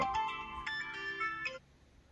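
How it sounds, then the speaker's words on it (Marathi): A mobile phone ringtone plays a bright electronic melody of repeated tones for about a second and a half, then cuts off abruptly, leaving quiet room noise. "फोन बी कोणाचा आलाय गे बाबा आज"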